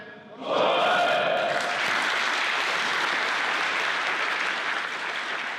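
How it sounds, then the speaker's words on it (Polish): Applause greets new young members of a Polish nationalist movement, rising abruptly after a brief moment of quieter sound and then holding as a dense, steady roar of many hands to the end. "Brawa dla nowych członków młodzieży."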